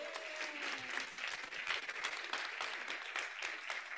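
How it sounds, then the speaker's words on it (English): An audience at a health conference closing ceremony applauds, a dense, steady round of clapping from a sizeable crowd lasting throughout. "I want an incredible round of applause."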